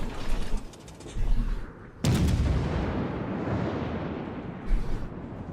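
Naval gun salvo fired at ships in a warship battle game, aboard the Italian vessel Duca d'Marina; a sudden heavy boom with a long rumbling tail, after earlier booms and followed by another thump, loud and close, no talk.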